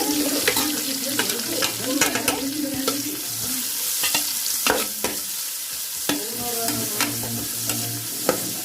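Chopped onions hit a pan of browned pork and fry with a steady sizzle, while a spoon scrapes and stirs in repeated clattering strokes close by.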